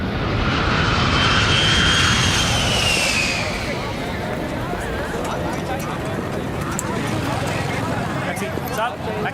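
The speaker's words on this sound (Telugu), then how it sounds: "The flight is taking of." A jet airliner takes off in a movie scene, its engine roar loud and broad at first, then easing to a steady rumble as it climbs away, with voices talking over it.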